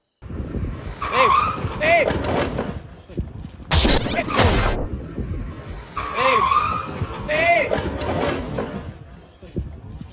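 A Suzuki Avenis 125cc scooter brakes hard, its tyre squealing and skidding in two long screeches with a scraping crash between them, over engine noise and someone talking.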